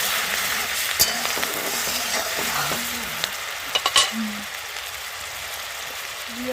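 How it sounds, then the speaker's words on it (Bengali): Onion paste hits hot oil with a strong, continuous sizzle and stirring scrapes, a few sharp clatters near the middle, and faint voices in the background. "ওই তেলে দিয়ে দেবো পেঁয়াজ বাটা,"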